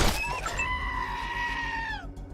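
A goat in the video game Wasteland 2 gives one long, loud, wavering bleat lasting about two seconds, close and clear with no talking over it.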